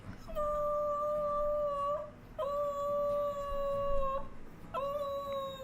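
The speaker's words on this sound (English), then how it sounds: "Buddy, today's Grandma's birthday. Can you sing her happy birthday?" A pet dog howls in three long, sustained tonal notes separated by short breaths, close and clear, as if singing happy birthday, with no talking over it.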